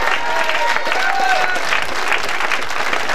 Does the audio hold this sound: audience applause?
yes